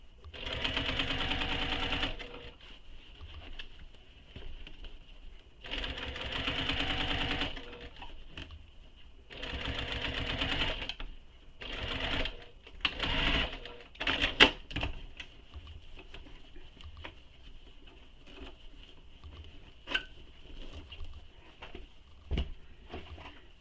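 A sewing machine stitches seams on a crossbody bag in several bursts of rapid mechanical chatter, each a few seconds long with pauses between, then shorter stop-start runs and small clicks toward the end.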